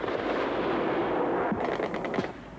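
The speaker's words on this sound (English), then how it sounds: "Flak narrowly misses a swooping Su-25." Anti-aircraft flak fire in Afghanistan war footage as an Su-25 jet swoops overhead, a dense rumbling roar with a burst of rapid distant reports partway through.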